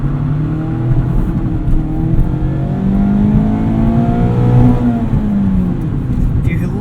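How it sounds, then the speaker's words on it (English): A 2019 Mazda MX-5 Miata GT-S engine revving high during a night drive, the loud in-cabin engine note climbing and falling through the gears with a sustained, rising whine, heard from inside the car. "that last 500 RPM, this car really screams."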